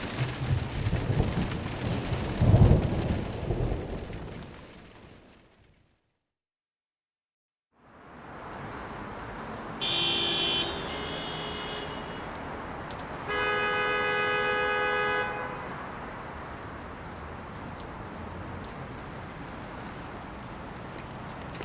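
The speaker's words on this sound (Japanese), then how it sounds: "雨か。" Steady rain patters and hisses, with a low thunder-like rumble early on, a brief silence, then rain resumes with a couple of sustained tonal chimes.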